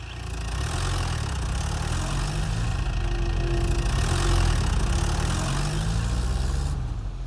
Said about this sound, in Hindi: ट्रैक्टर लेकर ऊपर ही खड़े हैं।